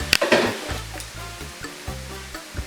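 Rice noodles with vegetables and chicken stirred in a pan, close scraping clatter and soft sizzling in short bursts, with a few low thumps from the utensil against the pan.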